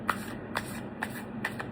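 A deck of tarot cards being shuffled by hand, four quick riffling bursts at a steady rhythm, close and clear, with no voices.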